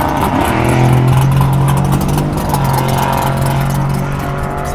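A Tesla Model 3 electric car launches in a drag test. A loud rising electric motor whine sweeps upward over tire and road noise, then holds as a steady high hum.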